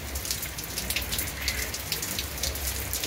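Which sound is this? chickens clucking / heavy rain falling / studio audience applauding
heavy rain falling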